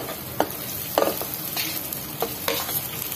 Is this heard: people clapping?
no